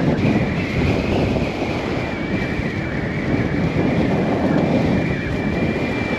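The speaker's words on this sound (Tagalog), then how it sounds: "Lakas po ng hangin." Strong typhoon wind roars continuously, buffeting the microphone with a dense, unbroken rush of noise that stays loud and steady throughout, with no voices.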